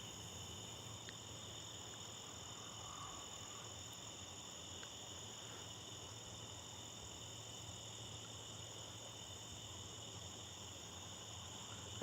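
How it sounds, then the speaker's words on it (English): Crickets and tree frogs chirring at night outdoors, a steady layered drone of high, continuous insect trills with softer frog calls beneath, constant and unbroken, no talk. "Does the microphone pick up the crickets and tree frogs or no?"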